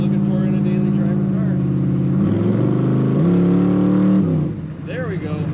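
A 1940 Pontiac five-window coupe street rod accelerating hard under kickdown, its engine note loud and close, rising steadily in pitch with a sudden upshift before easing off at the end.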